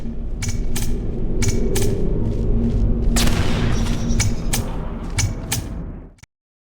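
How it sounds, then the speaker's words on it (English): Bombs explode in the video game Portal Revolution, a loud rumbling mechanical roar with a burst near the middle and sharp repeated clicks and bangs, then an abrupt cut to silence. "Those bombs are a menace."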